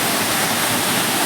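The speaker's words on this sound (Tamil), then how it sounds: "அங்கேருந்து விழுந்து போகிற தண்ணியே கீழே ஒரு ஃபால்ஸ் மாதிரி தெரிவாங்க" Courtallam waterfall pouring down in a steady, dense roar of falling water, broadband and continuous for the whole moment with no voices over it.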